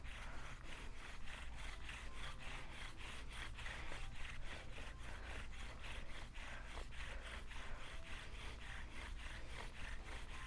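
A bow drill spins a wooden spindle against a fireboard for friction fire, producing steady rhythmic back-and-forth rasping strokes, about two per second, close and quiet.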